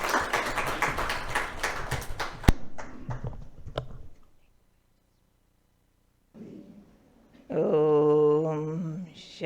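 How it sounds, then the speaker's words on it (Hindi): Applause from an audience welcoming a speaker at a Brahma Kumaris New Year 2022 celebration program in Panchkula: dense, steady clapping for about four seconds, then quiet, followed by a tonal voice or music. "तो खूब तालियों से दीदी जी का स्वागत करते हैं"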